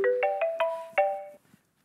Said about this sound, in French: Il est où ce téléphone fictif?